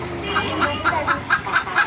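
A laying hen clucks close by in a steady rhythmic series of about seven short clucks over a low background murmur.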